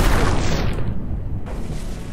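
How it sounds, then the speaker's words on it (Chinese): Explosion effect from the Ghostrunner 2 video game demo: a loud, dense, sustained rumbling boom with a broad roaring wash that stays heavy for the full couple of seconds, with no talk over it. "这个爆炸效果做的有点。 有一点点 low 啊！"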